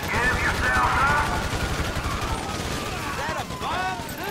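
Bursts of gunfire from a bank robbery shootout with police in GTA 5 crackle continuously over a busy game mix, with voices talking and shouting throughout.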